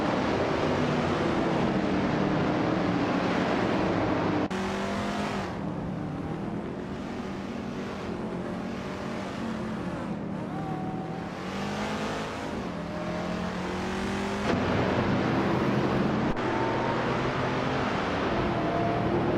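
Race cars duel closely for position on a track in a racing game, engines revving and shifting in overlapping whines with abrupt gear changes, continuous and loud, no voices.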